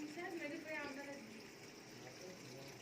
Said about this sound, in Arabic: هي كده بتبدأ تاخد مية تاني، وهتبدأ دورة غسيل من اول وجديد عشان تشطف الغسيل